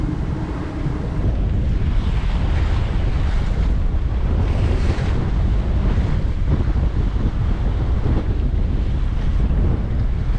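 Strong wind roars steadily across a sailboat at sea in the Atlantic, buffeting the microphone with a constant loud rumble and rushing noise, with no voices.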